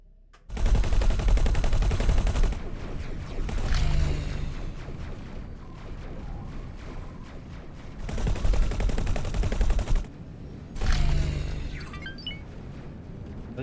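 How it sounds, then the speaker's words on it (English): Rapid gunfire from weapons attacking a station in the space game X4 Foundations comes in long, loud sustained bursts with short gaps between them, plus a few faint metallic pings. "They're shooting at this station now."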